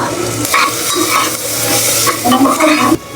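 Chopped tomato with salt and turmeric hits a hot pan, a loud, close hiss with rhythmic stirring scrapes of a spoon against metal, continuous throughout.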